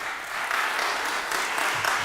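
An audience at a symposium panel applauds a newly introduced panelist, a short burst of steady clapping from many hands filling the room.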